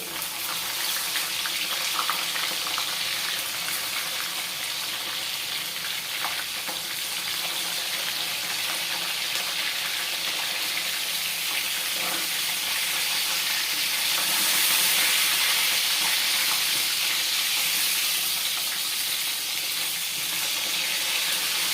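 Steady crackling sizzle of tilapia frying in hot oil, continuous and close, with no talking over it.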